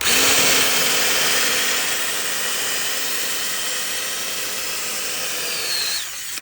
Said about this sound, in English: I'm going to take this drill and masonry bit